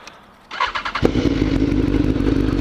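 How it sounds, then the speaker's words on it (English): A Kawasaki H2 motorcycle fires up after a quiet moment: a few sharp exhaust blips, then a loud, steady idle with a throbbing low rumble close by. "I love the sound of that exhaust"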